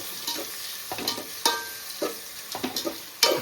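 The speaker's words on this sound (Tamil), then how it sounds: "ரொம்ப பொன்னிறமாகிற வர கொஞ்சம் நேரம் வறுத்து எடுக்கணும்." Ingredients frying in ghee mixed with oil for a prawn biryani: a continuous close sizzle broken by periodic scraping stirs of a spoon against the pan, no voices.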